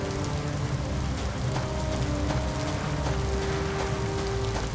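In a video game, hurricane rain hammers down in a dense, loud patter with a low rumbling storm wash underneath, continuous throughout.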